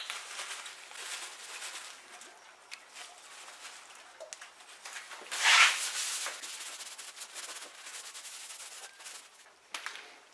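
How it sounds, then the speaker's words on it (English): A rag soaked in grease remover is wiped across a car body panel before body filler goes on, giving soft, close rubbing and swishing with one louder scrub in the middle, alone and without talking. "now let's take some of that grease remover and clean our areas before we Bondo it."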